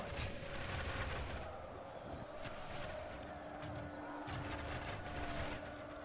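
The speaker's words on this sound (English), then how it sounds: "And the archers are firing now" Distant battle din from the Third Age Total War strategy game as archers loose arrows, with repeated sharp cracks and thuds over a constant roar of massed fighting, fairly faint.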